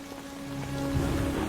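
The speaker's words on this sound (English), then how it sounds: "But the rain isn't stopping." Steady rain falling and pattering on surfaces, a dense continuous hiss that builds slightly, with no voices.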